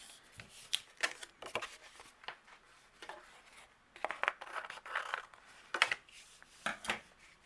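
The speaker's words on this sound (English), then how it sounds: "we're going to use the tape runner. And I'm going to add this to the very bottom of my card base" A tape runner lays adhesive along the bottom of a card base, giving soft intermittent clicks and short papery rolling strokes, quiet and close with no talking.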